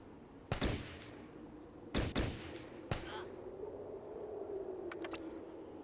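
Gunfire in the video game Fallout Tactics: a few sharp, separated shots rings out over a low background hum, followed by faint metallic clicks near the end.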